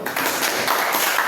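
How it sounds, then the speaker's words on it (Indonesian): A school class applauds, dense hand clapping from many students filling a short burst at steady loudness with no talk over it. "Tepuk tangan dulu."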